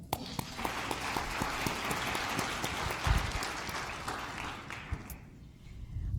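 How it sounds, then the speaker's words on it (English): A conference audience gives a second round of applause for the judges at a research pitch competition, dense sustained clapping that fades out near the end. "I will absolutely request a second round of applause for our judges"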